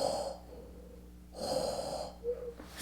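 A voice imitates Darth Vader's breathing: two long, rasping mechanical breaths close to the microphone, separated by a pause, with a short wheezy breath following.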